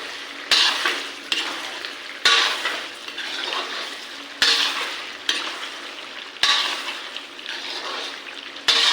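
Ginger garlic paste fries in oil for Assamese duck curry, a close, bright sizzle broken every second or two by sharp scrapes and knocks of a spoon stirring in the pan.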